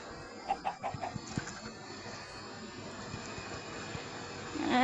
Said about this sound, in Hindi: यहाँ पर हम थोड़ी मुर्गियाँ डाल देते हैं अपनी।